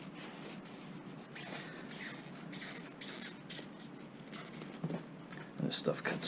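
Steady scratchy rasping as sound booth material is cut by hand, quiet and continuous with small bursts, while a voice speaks softly over it.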